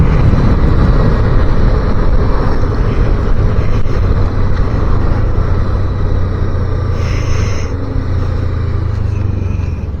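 A 250cc motorbike ridden on UK roads gives a loud, steady engine rumble mixed with heavy wind roar throughout, close and continuous, with no talking.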